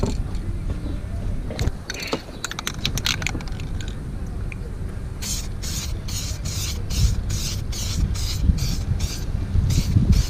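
Gusty outdoor wind noise rumbles throughout, then a run of short aerosol spray bursts onto a boat's vinyl seat hisses in a fairly regular rhythm over the second half.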